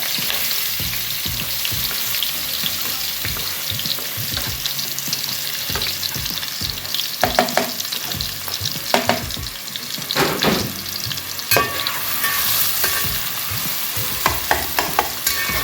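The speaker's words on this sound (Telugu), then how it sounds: "ఇప్పుడు ఇందులో నేను ఉల్లిపాయలు వేస్తున్నాను చూడండి మస్తుగా కలుపుతున్నాను" Thinly sliced onions fry in hot oil with cloves for a chicken curry, a steady loud sizzle broken by scraping stirs of a spoon against the pan, continuing without talk.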